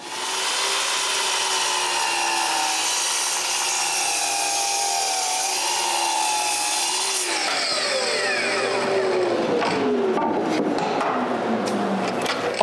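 A power tool cuts small pieces of walnut and oak for a lamp, making a loud, continuous whining roar that shifts in pitch partway through as the blade works into the wood, with no speech.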